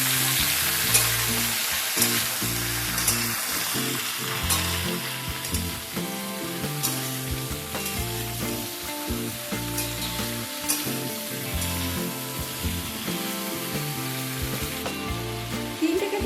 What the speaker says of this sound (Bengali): প্রথমে নুন ছাড়াই সবজিগুলোকে একটু হাই ফ্লেমে ভেজে নেব